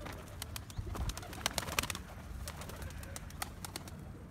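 Tumbler pigeons kept as play birds for sale in Gebze coo and flutter in steady overlapping calls, with scattered sharp chirps and wing rustles against a constant low background rumble.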